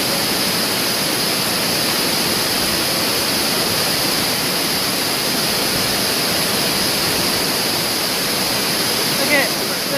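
Steady, roaring rush of Amicalola Falls waterfall fills the whole clip, loud and constant with no pauses.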